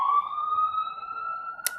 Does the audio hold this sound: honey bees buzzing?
no